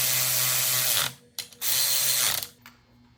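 A ratchet wrench tightens bolts during a clutch upgrade on a turbo Chevrolet Cavalier, two loud rapid clicking runs split by a short pause and ending with a few lighter clicks.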